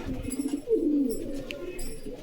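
Pigeons at a breeder's sale coo in a low, rolling call that swells once in the middle, close by with faint background chatter.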